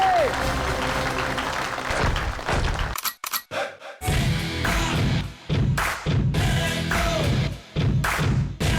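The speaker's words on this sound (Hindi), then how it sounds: "जोरदार तालियां हो जाए" A studio audience at a Hindi TV stage show claps for a performer in loud, dense bursts, with brief pauses between waves of applause.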